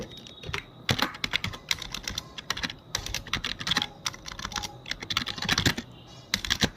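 Fingers typing on a computer keyboard while entering a Bengali question paper in MS Word: close, irregular bursts of clicking keystrokes with brief pauses between runs, and no voices.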